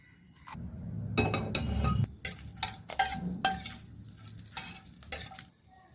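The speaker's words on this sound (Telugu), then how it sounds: "ఇప్పుడు గరం మసాలా వేస్తున్నానండి, హోల్ గరం మసాలా. జీలకర్ర వేస్తున్నాను." Whole garam masala and cumin seeds sizzle in hot oil in a village-style kitchen, with a rustling fry and a series of sharp stirring scrapes and clinks against the pan, close and clear, without speech.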